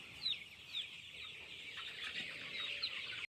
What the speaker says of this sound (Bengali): তো এই যে মুরগি